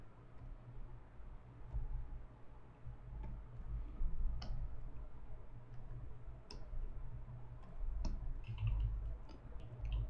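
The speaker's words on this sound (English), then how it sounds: "just using the number keys." Computer number keys are tapped in a scattered series of light, close clicks over a steady low hum, with no talking.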